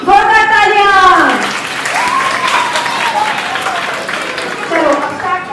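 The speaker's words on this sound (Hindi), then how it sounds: "जोरदार तालियां।" Loud applause from a children's camp audience at a Jain children's values-education camp, rising after a sung or chanted voice and continuing as a broad wash of clapping with voices mixed in.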